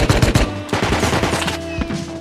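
Auto turrets firing in Rust, a survival video game: rapid bursts of automatic gunfire, loud and close, crackling steadily over a low droning game background with no talk.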